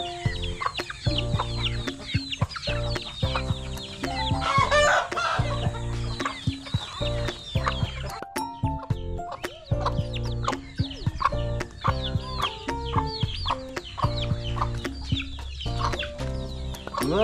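A hen and her chicks cluck and peep busily at close range, with dense overlapping calls and a few louder squawks from the flock.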